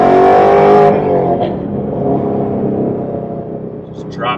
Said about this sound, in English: Just dropped it into gear there and overtook.